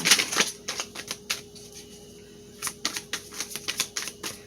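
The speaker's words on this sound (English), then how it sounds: "We got a lot of cards falling out." Tarot cards spilling out of a deck, a scatter of light papery slaps and flicks in quick irregular bursts, a short quiet gap, then more clustered flutters, close and fairly soft.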